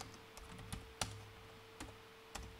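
Keys clack on a computer keyboard while a sticky note is typed on a Windows 11 PC, a handful of sparse, separate taps spaced irregularly over a quiet room hum.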